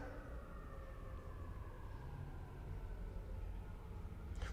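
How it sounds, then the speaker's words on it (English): Emergency sirens wail from a distance in a slowly gliding tone over a steady low traffic rumble, faint and continuous throughout. "Hold for sirens."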